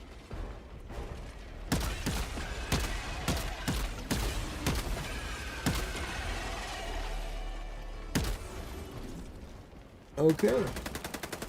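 Video game gunfire comes as a series of sharp, loud shots spaced irregularly across the clip, with mechanical clicks and metallic reload sounds between them and a brief spoken word near the end.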